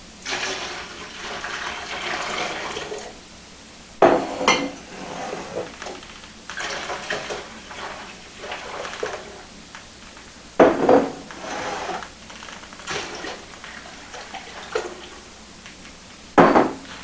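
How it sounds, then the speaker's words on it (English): Three gallons of milk poured into a stainless steel stock pot, a steady splashing pour with several louder sloshing bursts and clanks against the metal rim, close and alone. "I'm going to start out by pouring all my 3 gallons of milk into my stainless steel"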